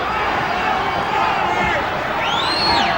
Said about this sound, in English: The crowd is shouting Banke